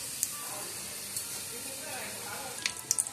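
Mustard seeds, urad dal and chana dal frying in hot oil give a steady, fine sizzle with a few small crackles and pops toward the end, close and fairly soft.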